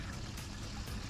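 Oil dribbling and trickling off a freshly deep-fried Thanksgiving turkey as it is lifted slowly from the fryer, a faint, continuous liquid patter heard close by.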